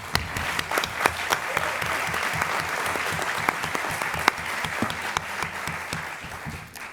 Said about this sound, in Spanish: Un aplauso para Manuel Gómez Pereira.